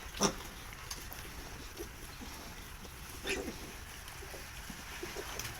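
Piglets on a farm grunt and snort now and then over a constant background of farm noise. The grunts are short and scattered, with a couple of louder ones close by.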